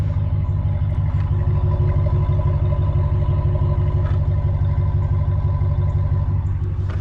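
A stock exhaust on a RAM 1500 pickup with the 5.7L Hemi V8 idles in a steady, deep rumbling burble, close and even throughout with faint clatter, no voices over it.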